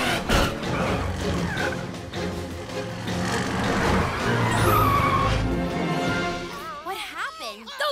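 A cartoon car from PJ Masks, the cat car, speeds off in a dense stretch of whooshing engine and tire-squeal effects layered over music, with characters talking over it.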